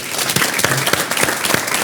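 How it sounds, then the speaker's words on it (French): Brief burst of audience applause for a city mayor on a television set, dense close clapping with sharp individual claps standing out, filling the whole short moment. "Applaudissements pour monsieur le maire, s'il vous plaît."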